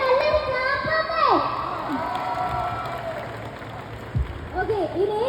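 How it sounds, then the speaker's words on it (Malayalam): A crowd cheers, whoops and claps loudly at a promotion event for the Malayalam film Sarkeet with actor Asif Ali, with high shouts and whistles rising over a steady wash of applause. "എല്ലാരും നല്ലൊരു ക്ലാപ്പ്."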